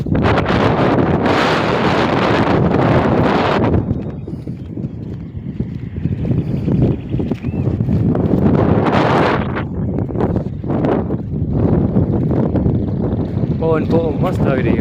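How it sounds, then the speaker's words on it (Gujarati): A strong wind blows outdoors on a farm, roaring across the microphone in loud, gusty rumbles, with voices and scattered rustling mixed in. "પવન મસ્ત આવી રહ્યો છે જોરદાર."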